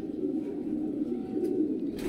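Golden Ferozepuri pigeons coo in a low, continuous murmur close by, a steady soft rumble with no talking over it.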